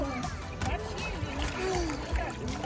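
A child splashes continuously in water while sliding on her belly, close and lively, with a voice talking over the sloshing.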